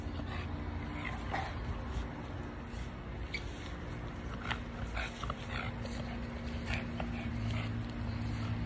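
Dog in a video game whimpering and whining in short, high, repeated cries against a steady in-game background hum.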